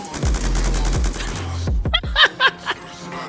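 An MK48 light machine gun fires in a shooter game, a rapid sustained burst of dense shots for about a second and a half, then a few lighter sounds with chuckling and laughter.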